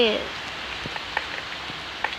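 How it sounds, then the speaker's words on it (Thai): Rain falls as a steady, moderate hiss, with scattered drips and small taps popping out above it and no voices. "บ้านผมฝนตกนะครับ ตอนนี้"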